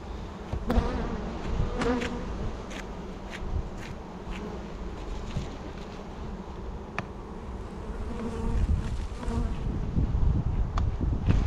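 A thick, continuous hum of honeybees fills a mountain apiary, with single bees darting close and away in sharp passes and low rustling near the end, no voices present.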